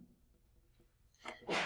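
A single brief sneeze in a lecture hall, a faint intake followed by a sharp burst of breathy noise lasting under half a second, somewhat distant and alone.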